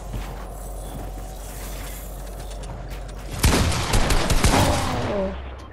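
A burst of rapid gunfire from a Fortnite match cracks out loudly after several seconds of low game ambience, a dense cluster of shots followed by trailing mechanical effects.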